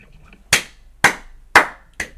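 Four sharp hand claps, evenly spaced and slow, ring out clearly against near silence.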